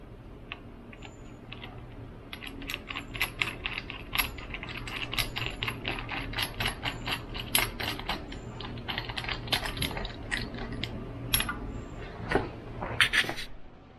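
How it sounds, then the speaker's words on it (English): Ratchet clicks as new spark plugs are tightened on a Suzuki DF30A outboard motor, a quick run of close, light metallic clicking bursts with short pauses between them, and no talk. "So now we're going to go ahead and put new spark plugs in it."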